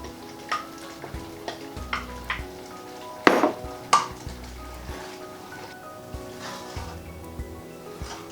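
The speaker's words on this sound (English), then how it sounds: "I'm going to give that a quick stir. I'm going to uncover it." Vegan cottage pie filling stirred in a pot with a spoon, giving soft scrapes and scattered clinks against the pot, including one sharper clatter midway, all under a quiet background.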